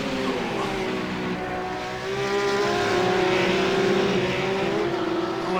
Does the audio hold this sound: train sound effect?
no